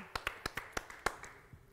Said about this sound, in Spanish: el aplauso de todos los presentes.